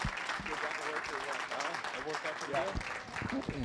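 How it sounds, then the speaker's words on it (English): An audience at a student auction applauds in a continuous patter of claps, while an auctioneer keeps talking over it. "How about a round of applause for our new owners?"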